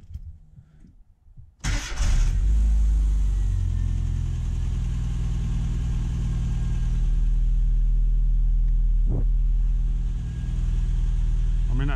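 A classic Mini's engine cranks and catches after a quiet moment, then settles into a steady, even low idle that runs close and loud for the rest of the span, with a brief blip partway through.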